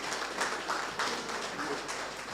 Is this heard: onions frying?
no